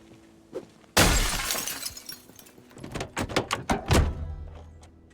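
A car window smashed in the zombie survival game Project Zomboid: a single loud shattering crash with glass debris tinkling and rattling for a few seconds, followed by scattered clinks and a heavy thunk.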